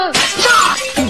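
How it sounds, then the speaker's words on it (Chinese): A vase shatters in one loud, sharp crash with a bright breaking burst that trails off into scattered ringing fragments, standing alone with no talk. "山羊把花瓶打碎了"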